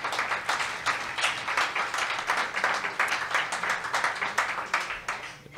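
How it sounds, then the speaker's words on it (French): Audience applause at an evening talk event on neuroscience and artificial intelligence, a steady crowd of hands clapping continuously and fairly loud throughout, with no speech over it. "Bonne main d'applaudissement pour eux aussi."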